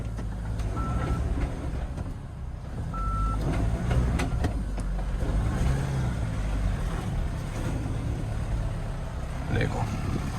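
A two-wheel-drive (4x2) car, stuck and driven out without four-wheel drive while the clutch is worked, rumbles low and fairly quietly under outdoor noise, with a few brief high chirps.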